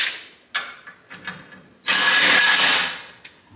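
An impact wrench works a bolt on a Toyota Tacoma front end: a few short clicking bursts, then one sustained loud whirring rattle lasting over a second before stopping, with a final brief tap.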